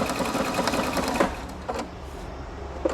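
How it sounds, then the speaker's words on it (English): Husqvarna Viking Opal 690Q sewing machine stitching at high speed, a steady close mechanical whir with a rapid needle rhythm that holds throughout, briefly easing near the middle. "You can just start sewing."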